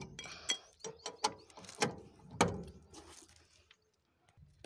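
Ratchet wrench tightening a wheel nut bolt on the spare tyre of a Tata Ace, a series of close, sharp clicking strokes in an uneven rhythm, fading to quiet at the end.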